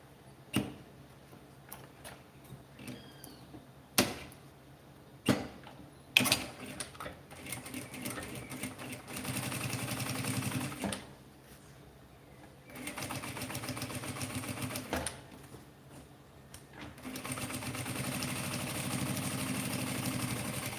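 A sewing machine stitches a small handbag made from fabric scraps, starting with a few sharp clicks and then running in several steady stretches of quiet mechanical whirring with short pauses.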